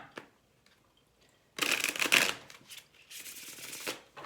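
Tarot cards shuffled and handled in a reading: a quiet start with a faint tap, then a loud burst of riffling and shuffling, followed by softer card rustles and slides close by.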